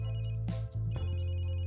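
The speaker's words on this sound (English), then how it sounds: "The phone rings." A phone in the video game Signed and Sealed with a Kiss rings loudly and close, with two trilling electronic ring bursts separated by a short gap over a steady low hum.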